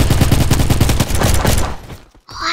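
Rapid pistol gunfire in a Roblox game, a dense, loud burst of quick repeated shots lasting a second and a half, then a brief gap before a short electronic sound.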